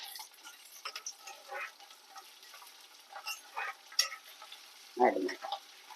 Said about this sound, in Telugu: ఇదిగో పోపు.